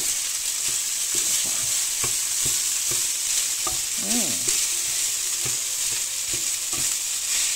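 Rice frying in a lightly oiled pan with egg, beans and chorizo, a steady close sizzle broken by repeated scraping and stirring strokes of a utensil, with no voices.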